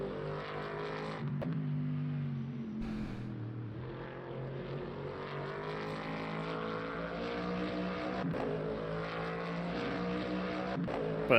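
A racing car with a front-mounted 5-litre V8 drones steadily in the Le Mans Ultimate sim during an endurance race at COTA, a sustained mid-revving engine tone with gear shifts and slight pitch swells.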